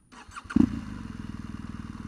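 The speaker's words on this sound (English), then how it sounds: "You start the engine with this." A BMW R1200GS motorcycle engine cranks and fires up close by, settling quickly into a steady, rhythmic idle putter.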